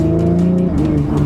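A Stage 1 BMW M135i accelerates hard, its engine a strong, steady drone heard from inside that briefly drops in pitch partway through, as at a gear change, then keeps pulling.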